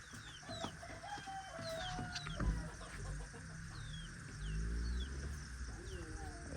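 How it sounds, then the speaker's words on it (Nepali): Roosters and chickens on a farm with grazing cows nearby, faint crowing and clucking calls rising over a rough outdoor background with low rumbles and occasional bird chirps. "यता पनि छन् भाले"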